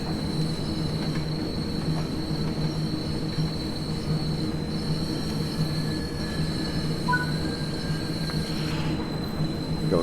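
A freight train climbs the metre-gauge RhB Arosa line in a train simulator game, with a steady rumble of wheels on rail, a sustained high squeal and occasional brief tones.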